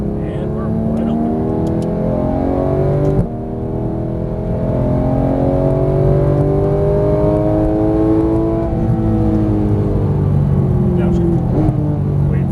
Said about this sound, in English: We start squeezing on that throttle as we unwind our steering wheel. And we're wide open.